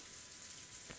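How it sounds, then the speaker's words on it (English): Steady rain from the Umineko: When They Cry Episode 2 game, a dense, even hiss of falling drops that fills the whole second without a break, loud and close. "It had started raining"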